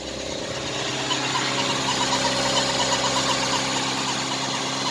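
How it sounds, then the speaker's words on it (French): A 1989 Renault Super 5 GTR engine, running on ethanol, idles steadily with a faint high belt squeal running through it, close and continuous, with no talking. "J'ai un petit bruit de courroie."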